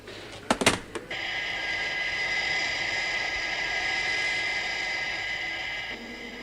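A jet aircraft roars steadily from a 1970 science-fiction TV series soundtrack, a loud sustained engine drone after a few brief sharp bursts at the start, fading slightly near the end.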